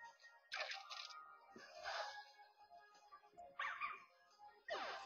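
Lillipup's cry in Pokemon White, a few short synthesized yapping, dog-like bursts with brief gaps between them, quiet and with no talk over them.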